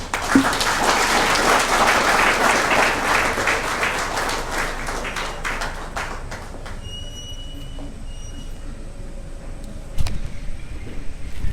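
Conference audience applauding at an anniversary event, dense clapping for about six seconds that then thins out and fades, leaving a quieter room with a few scattered sounds and a sharp knock near the end.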